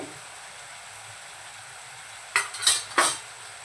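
A utensil stirs spices into mutton in a pan, giving a faint steady sizzle and then three quick, sharp scraping clinks near the end.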